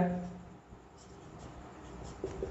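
Chalk or marker writing on a board during a chemistry lesson, faint scratchy strokes heard close by in short bursts against a quiet room.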